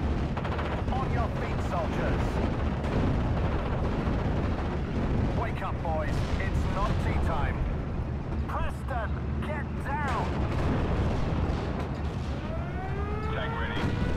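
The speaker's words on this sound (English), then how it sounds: "we're going to have to like mortar the hell out of this" Mortar barrage in Steel Division: Normandy 44, a Normandy 1944 battle at Caumont l'Éventé, heard as a steady roar of rumbling impacts and scattered gunfire, with rising whistles near the end and a voice speaking over the top.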